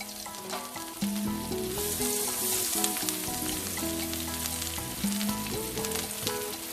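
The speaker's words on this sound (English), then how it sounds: "We'll take our fillets of salmon there and place those skin side down." Salmon fillets laid skin side down in a hot pan sizzle steadily, a loud, continuous frying hiss close by with no talk and background music playing throughout.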